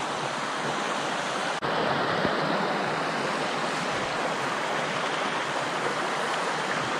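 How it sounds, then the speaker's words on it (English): Steady rushing of a creek on the Appalachian Trail, a continuous broadband wash close by with no voices, holding even in level throughout. "So here we're crossing another creek."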